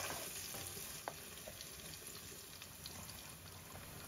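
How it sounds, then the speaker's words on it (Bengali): Chopped onion and garlic stir-fried in a pan, a faint, even sizzle with occasional soft ticks from the stirring utensil and no voices. "এখন এটাকে আমি কিছুক্ষণ নেড়েচেড়ে ভেজে নিব"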